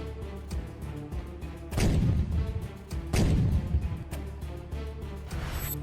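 Russian howitzer artillery firing on hidden positions in the Sumy region, heard as two heavy, booming blasts a second or so apart, each with a rumbling low tail, over a steady mechanical background hum.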